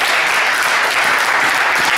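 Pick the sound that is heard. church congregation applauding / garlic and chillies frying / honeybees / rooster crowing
church congregation applauding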